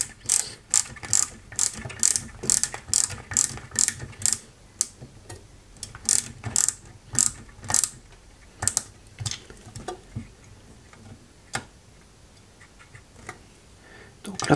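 A small screw being driven to fix a wheel onto an Ecto-1 scale model kit, the screwdriver giving rapid, close ratcheting clicks in bursts that slow and thin out toward the end.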